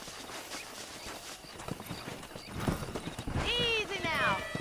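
Horse hooves clip-clop in a Red Dead Redemption ranch scene, steady steps building to a loud whinny near the end, with talk over the sounds.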